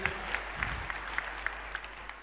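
A church congregation claps, a run of evenly spaced soft claps heard from a distance over a low room hum, with no voices.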